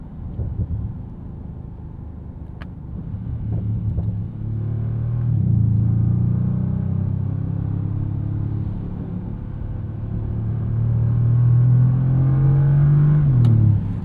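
A 2027 Bentley Continental GT S V8 coupe's engine rumbles and pulls strongly, its deep note rising steadily as the car accelerates, with a smooth, muted roar.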